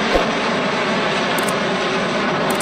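Steady roar of a fighter jet engine, a broad, continuous rushing noise held at an even, fairly loud level throughout with no break or talking.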